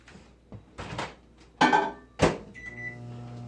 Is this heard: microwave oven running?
yes